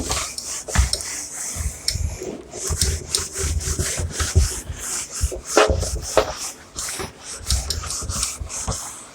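Writing is wiped off a board during a maths lecture, heard as steady, irregular rubbing strokes that run almost continuously at close range, with no voices.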